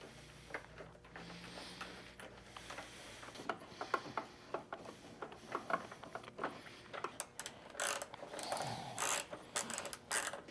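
A ratchet clicks in quick bursts while tightening the inner fairing bolts on a 2024 Harley-Davidson Street Glide, close up and alone, with short pauses between runs of rapid pawl ticks.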